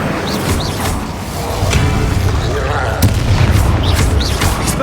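A fiery Incendio spell erupts in Hogwarts Legacy with a loud, sustained rumbling whoosh and booming bursts, layered with game combat noise and a voice calling out.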